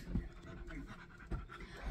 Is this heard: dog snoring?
yes